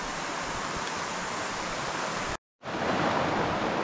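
A river in New Zealand's Kaimanawa–Kaweka backcountry rushes with a steady, loud broadband roar, cut by a brief silent gap before resuming just as strong.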